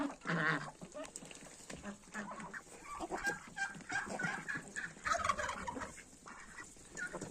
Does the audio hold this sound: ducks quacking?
yes